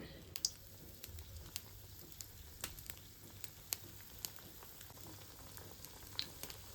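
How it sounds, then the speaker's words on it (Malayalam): Small pieces of cake dough fry in hot oil, a faint steady sizzle scattered with soft crackling pops at an uneven rhythm, heard close and quiet. "നമുക്കിനി ഇതിന് ഓരോ പീസിനെ ഇട്ട് എണ്ണ ചൂടാക്കി അതിനകത്തിട്ട് വറുത്തെടുക്കാം"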